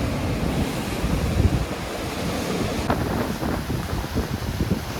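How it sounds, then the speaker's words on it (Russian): Storm-driven ocean waves crash and wash against the shore at night, a loud continuous roar mixed with strong wind buffeting the microphone, with a heavier surge breaking partway through; no one speaks. "Волны."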